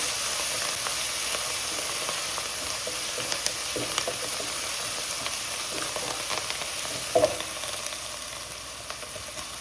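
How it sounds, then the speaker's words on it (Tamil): Steady, close sizzling hiss of ginger garlic paste sautéing in a hot pan, continuous and loud throughout, with a couple of faint stirring clicks and no talking. "இஞ்சி பூண்டு பேஸ்ட்டு வதங்கிட்டு இருக்கு"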